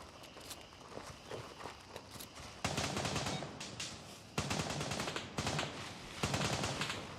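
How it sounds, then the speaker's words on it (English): Gunfire echoing from beyond a hill in Gray Zone Warfare: scattered bursts of rifle and automatic fire, moderately distant, with louder clustered volleys arriving in several waves and no voices. "there's some shooting going on up over that hill"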